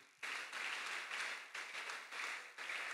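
Congregation applauding during a French-language church sermon, a broad wash of many hands clapping in steady waves that swell and dip roughly every half second, fairly close and filling the room, no voices over it.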